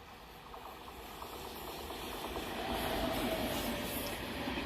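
Gitanjali Express passenger train passing on an Indian railway line, a steady rolling rumble with hiss that gradually grows louder and nearer over several seconds, with no voices.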